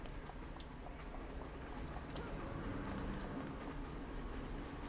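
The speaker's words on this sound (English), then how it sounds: "Let's just go ahead and use the train station." A train at a station in the video game City of Heroes, a continuous low rumble and clatter with faint ambient clicks, steady and without speech.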